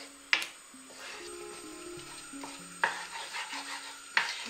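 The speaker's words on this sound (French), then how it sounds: "Temos que mexer sempre a não se agarrar à pele, porque pode se agarrar." A spatula stirs a leek omelette in a frying pan, making soft scraping and rubbing sounds, with three sharp metallic taps against the pan spread across a few seconds.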